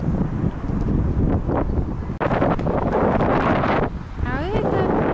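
Gusty city street wind buffets the microphone with loud rumbling roars, while faint traffic and distant sounds pass in the background.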